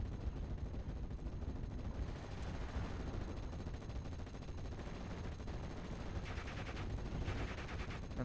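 Machine gun fire from a Stuart light tank's three guns in the WWII strategy game Steel Division: Normandy 1944, a dense, continuous rattle of battle noise with scattered bursts and no pauses throughout.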